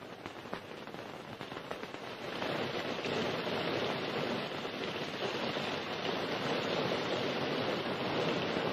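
Heavy rain pours down in a steady, dense hiss that grows louder after the first couple of seconds and then holds evenly, close and enveloping, with no voices over it.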